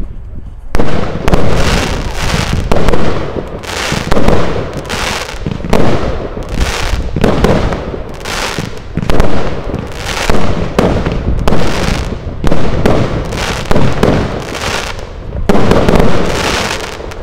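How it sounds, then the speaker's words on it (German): A fireworks show fires Gao Purple Stars and Fluffy Willow shells. About a dozen loud, booming bursts follow one another at a steady pace, each trailing into crackle before the next. "Einmal Gao Purple Stars und einmal Fluffy Willow."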